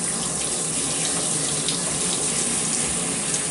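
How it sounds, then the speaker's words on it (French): Hot shower water running steadily, a loud continuous hiss and splatter that stays even from start to finish, with no voices over it. "Donc on va dire que j'ai fini ma douche chaude,"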